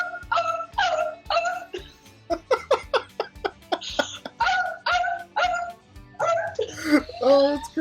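A person imitates a seal with a run of short, barking, yelping calls in quick bursts, close and fairly loud, with brief pauses and laughter-like sounds between them.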